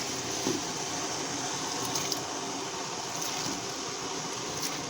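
Pickling cucumbers for bread and butter pickles, four pounds in all, go into a brine, giving a steady, close wash of watery splashing and swishing that continues without pause and with no talking.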